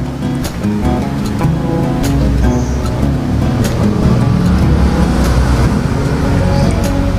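Water pouring steadily into a container for a TDS reading, a loud, continuous rushing splash that holds throughout.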